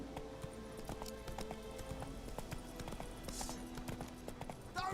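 A horse's hooves clip-clop at a quick, even pace in The Witcher 3, quiet and continuous, with a brief faint whinny partway through.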